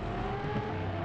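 Steady engine drone of a Lamborghini Asterion LPI 910-4 lapping a circuit in Real Racing, a continuous mid-level hum with no talk.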